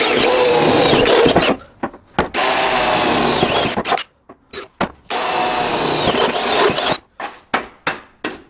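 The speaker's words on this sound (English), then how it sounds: "First thing, I'm going to drill that" A power drill whines in long, loud bursts, drilling holes in a Jeep door, pausing between runs, then several short trigger bursts in quick succession.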